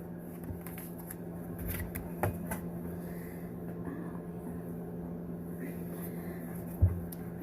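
Angel cards are shuffled by hand in soft, irregular riffles and taps close by, faint over a quiet steady hum with no talking.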